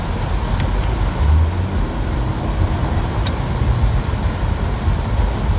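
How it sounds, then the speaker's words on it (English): Heavy road traffic heard from inside a moving car: a steady, loud low rumble of engine and road noise, with a few faint clicks and no voices. "hang on, I'm in pretty heavy traffic."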